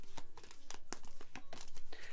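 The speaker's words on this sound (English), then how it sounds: "let me give these a good shuffle" A deck of tarot cards is shuffled by hand, a rapid run of crisp papery riffles and flicks, close and fairly quiet, with no talk over it.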